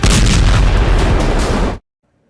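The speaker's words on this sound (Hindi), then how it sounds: "पहले एक जोरदार धमाका हुआ और फिर कई छोटे छोटे ब्लास्ट होने लगे" A railway track in Ukraine is blown up, heard as a loud, continuous roar of blasts lasting under two seconds before cutting abruptly to silence.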